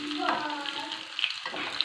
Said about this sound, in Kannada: ಇದು ಸ್ವಲ್ಪ ಬ್ರೌನಿಷ್ ಕಲರ್ ಬರೋ ತನಕ ಫ್ರೈ ಆಗಲಿ. ಸ್ಪೂನಲ್ಲಿ ಆಡಿಸ್ತಿದ್ದೀನಿ.